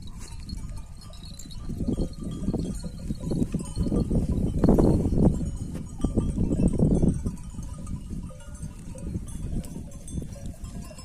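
Sheep bleating amid a steady jangle of clanking bells, a flock moving nearby with outdoor background noise throughout.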